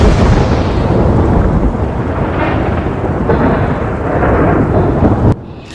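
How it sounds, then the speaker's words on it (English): A heavy storm rumbles with loud rolling thunder over steady roaring rain, the dense noise continuing without pause until it cuts off abruptly near the end. "Let the intensity of the storm rise."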